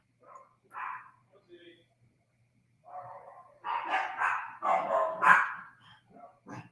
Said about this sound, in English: That's my dog right now.